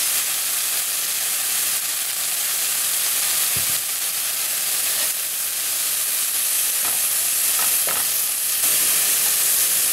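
Spinach and mushroom cooking down in a pan, with a steady bright sizzle and hiss running throughout, plus a few faint stirring clicks.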